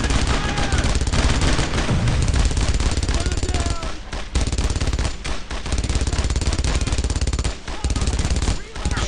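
Squad gunfire in the World War II shooter Brothers in Arms, dense and loud, with overlapping machine-gun bursts and rifle shots hammering almost nonstop, broken by a few brief gaps, while voices shout over it.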